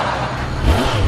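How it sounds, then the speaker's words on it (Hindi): Cartoon tempo and motorcycle engines rev hard during a chase, a loud, steady low engine drone that swells and climbs near the end, with no talking. "और तेज टेम्पो को चलाओ चिंकी, वो बहुत तेज मोटरसाइकिल चला रहा है।"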